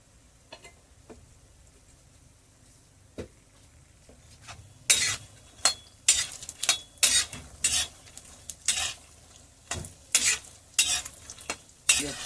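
Gond (edible gum) frying in ghee, with a steady low sizzle broken by a rapid run of sharp clinks and scrapes of a spoon or ladle against the pan, louder in the second half.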